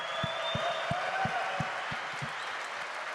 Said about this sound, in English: everybody needs to give him a round of applause because he's great